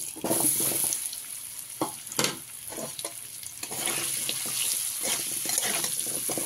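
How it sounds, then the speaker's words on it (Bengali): Potatoes sizzle steadily in oil in a pan, with soybean fried in that oil beforehand, giving a continuous hiss and crackle broken by occasional stirring scrapes and clatters, close and moderately loud with no talking. "আলুগুলো আমি ভেজে নেব।"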